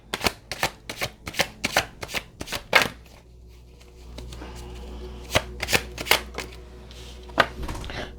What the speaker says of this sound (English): let's pull some cards on this